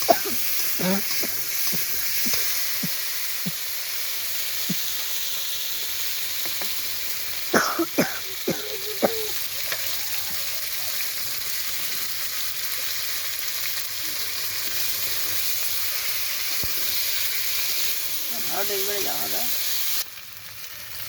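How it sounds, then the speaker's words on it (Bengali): Ground cumin and ginger paste frying in a pan for soybean curry, a steady close sizzle throughout, with scattered stirring scrapes and brief bits of talk and a cough. "এবার কষ হচ্ছে ভালো করে।"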